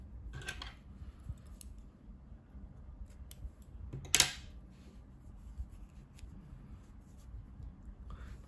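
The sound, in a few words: scissors cutting thread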